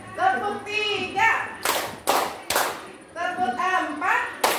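A class of children doing a three-beat rhythmic clap, sharp loud claps grouped in a quick pattern between stretches of children and a teacher talking.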